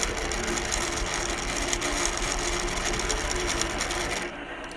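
Innova longarm quilting machine stitching again after a thread-break restart, a steady dense mechanical whir with fast rhythmic clatter that holds loud and close throughout, then drops slightly near the end.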